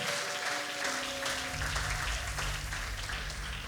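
Church congregation at a Pentecost service applauding and cheering, a dense, steady wash of clapping and voices that holds loud throughout, with held organ or keyboard tones underneath.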